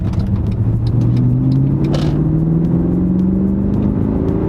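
A Mercedes ML63 AMG SUV accelerates hard, its engine note rising steadily in pitch as it pulls through the gears, loud and close with a deep rumble throughout.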